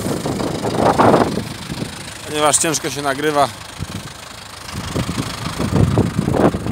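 A Case C 360 tractor engine chugs steadily at low pitch throughout, with someone speaking over it partway through.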